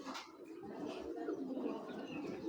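Red-throated racing pigeon cooing, soft low throaty coos repeating close by at a faint level in a quiet room.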